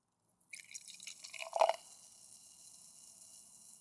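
A short splash of wine pouring into a glass, rising briefly then trailing off into a soft ringing fade, quiet and close.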